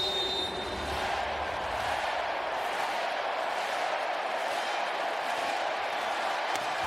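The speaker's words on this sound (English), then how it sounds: "The crowd responds to that one." A volleyball arena crowd at a USA versus Russia men's Nations League match gives a sustained, even roar of reaction that holds at the same level from start to finish.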